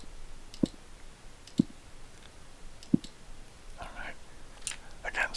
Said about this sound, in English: sometimes I like doing the clicking individually just because I like the click sound